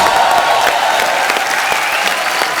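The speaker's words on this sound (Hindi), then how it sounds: "एक बार यूवी बाजी के लिए जोरदार तालियां" A studio audience at The Kapil Sharma Show gives a loud, steady round of applause, dense and continuous from start to finish with light crowd noise beneath.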